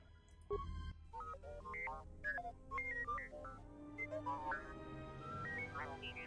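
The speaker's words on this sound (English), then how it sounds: "There's a series of low-pitched whistles and beeps." A utility droid in the Star Wars game Knights of the Old Republic II gives a run of low-pitched electronic whistles and beeps, rising and falling warbles over a steady background hum.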